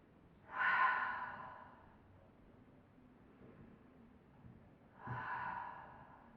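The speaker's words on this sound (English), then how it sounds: "And take 2 deep breaths here." Two slow, deep breaths taken during a gentle yin yoga hip session, each a soft airy inhale-exhale swell, close and quiet, separated by a few seconds of near silence.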